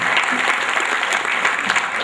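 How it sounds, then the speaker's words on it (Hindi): An audience at an award ceremony gives loud, sustained applause to welcome a visiting member of parliament, with dense clapping throughout and little talk. "एक बार ज़ोरदार तालियों से उनका इस्तकबाल करना चाहिए।"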